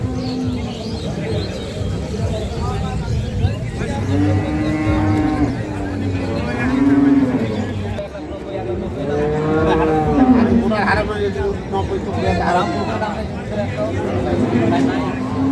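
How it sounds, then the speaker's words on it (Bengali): Dairy cows at the Ambari cattle market lowing in long, drawn-out moos, two or three calls over fifteen seconds, fairly near and loud amid market bustle and people talking. "আমবাড়িহাটের যে গাভী গরুগুলো রয়েছে দুধের গাভী গরুগুলো"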